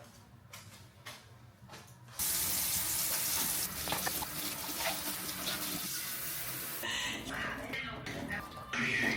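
A shower is switched on and runs with a steady, close hiss of falling water. A few soft handling knocks come before it starts and while it runs.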